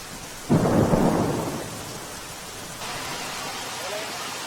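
Rain in Ahmedabad hisses steadily while a deep roll of thunder swells early and fades out slowly, with the downpour carrying on evenly afterward.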